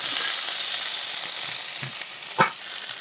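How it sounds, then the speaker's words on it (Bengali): Chopped onion and vegetables frying in oil left from frying fish, a steady bright sizzle with a few soft stirring scrapes and one louder knock near the end, close and without speech. "এই তেলে দিয়ে দিচ্ছি পেঁয়াজ কুচি"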